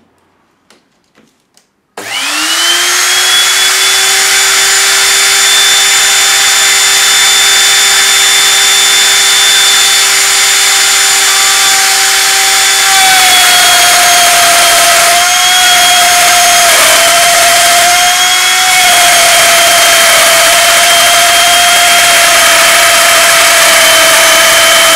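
A power tool cuts a sliding dovetail slot in wood, starting abruptly after a few faint knocks into a loud, sustained high whine that holds steady for the full length, dipping slightly in pitch as it bites, alone without talk.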